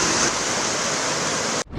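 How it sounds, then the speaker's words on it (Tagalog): Heavy downpour and rushing floodwater from Super Typhoon Julian in Ilocos Sur, a loud, dense, continuous roar of water that cuts off abruptly before resuming. "malakas pa rin ang buhos ng ulan sa ilang bayan sa Ilocos Sur"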